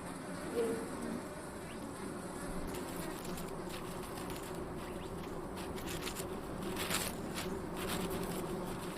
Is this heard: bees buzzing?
yes